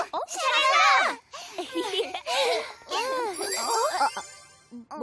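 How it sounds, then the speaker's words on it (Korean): A mission-arrival notification plays on a phone in a Korean animated children's series, heard as bright ringing chimes and tinkling jingles mixed with lively character voices over about five seconds. "미션이 도착하는 소리 기억해 주세요."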